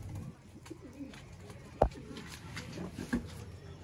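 Soft pigeon coos rise from a quiet background, with one sharper knock partway through and a few faint calls after it.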